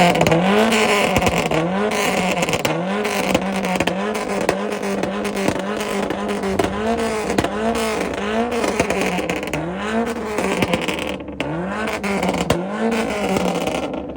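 A Ford ZX2 revs hard on a two-step launch limiter at an import rev battle in Woodburn, Oregon. The engine stays loud and close, with a rapid, choppy rhythm of rising and falling revs that continues throughout, and no voices.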